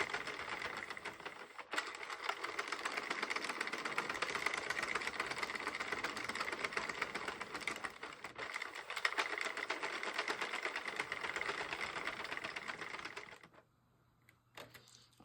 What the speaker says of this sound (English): I love this Sentro machine for making panels with latte cakes. It just is so smooth, so quiet